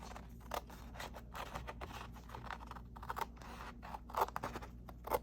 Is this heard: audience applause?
no